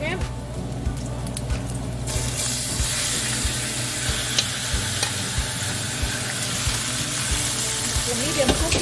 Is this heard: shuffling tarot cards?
no